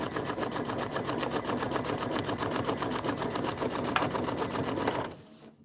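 A Kimberbell embroidery sewing machine stitches the borders of a bench pillow in a fast, steady, even rhythm that runs close and continuous, then stops abruptly near the end.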